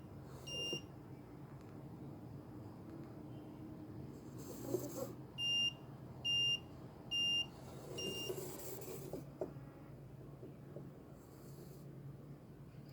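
Three short, regular electronic beeps from an Arduino ultrasonic sensor proximity alarm sound one after another, crisp and high-pitched, over quiet room noise with some faint handling sounds.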